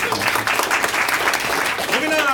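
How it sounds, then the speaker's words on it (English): A room full of general managers applauds a presenter named Greg, steady dense clapping throughout a short burst. "A round of applause for Greg, please."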